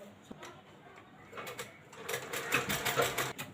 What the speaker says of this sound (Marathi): तर आता साधी शिलाई मारायची आहे जिथपर्यंत लेस आहे